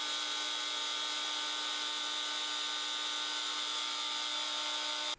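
A CNC router spindle runs at a steady high speed, giving a constant whine with dense, even tones close to the mic, and stops abruptly at the very end.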